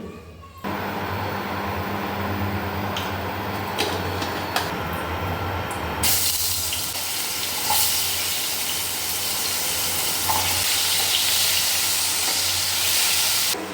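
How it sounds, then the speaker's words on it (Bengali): Potatoes fry in a pan with a steady close hiss and sizzle; the sound grows louder and brighter partway through as onions and then tomatoes are added, with a few clinks along the way. "আলুটা একটু লাল লাল ভাজা হলে আমি পেঁয়াজগুলো দিয়েছি, এবারে টমেটো দিয়েছি।"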